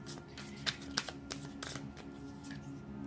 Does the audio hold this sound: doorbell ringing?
no